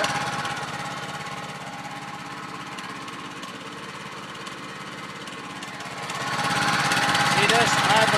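A small engine bought from Tractor Supply runs at a steady, rattling drone close by, then grows louder and rougher toward the end.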